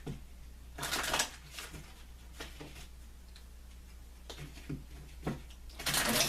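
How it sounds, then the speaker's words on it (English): A deck of Gypsy Witch playing cards being shuffled by hand for a card reading, several crisp riffling bursts and soft shuffles separated by short pauses over a low steady hum. "I'll take a few moments to shuffle the cards."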